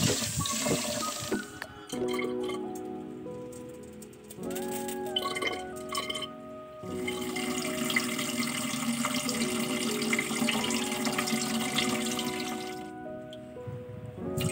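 Mung beans are washed under water, with a steady splashing and running-water wash that lasts throughout and shifts as the beans are swirled and rinsed. No voices are heard.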